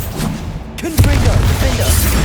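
A Bombarda explosion spell in Hogwarts Legacy bursts with a heavy boom about a second in, followed by a loud, sustained rumbling blast. Faint voices sit under the noise.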